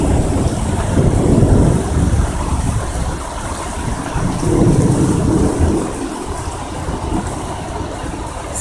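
Heavy thunderstorm over Amiens, France, with loud rolling thunder rumbling continuously over steady downpour, dense and close, no voices.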